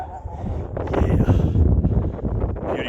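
Cold wind buffets the microphone on a hilltop lookout at the top of London, Ontario, a steady close rumble with gusts swelling toward the middle, while a person briefly speaks.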